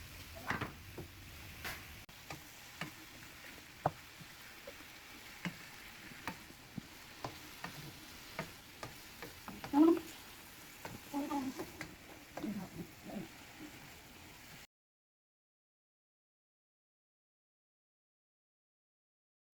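Arroz caldo being stirred in a pot, a soft steady sizzle under repeated scraping and tapping of the spoon, close and quiet, stopping abruptly before silence.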